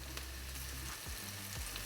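Teriyaki-marinated tofu frying in a pan for a vegan mushroom risotto, a steady close sizzle throughout with faint stirring scrapes, no talk.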